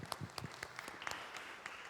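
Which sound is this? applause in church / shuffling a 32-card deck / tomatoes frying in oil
applause in church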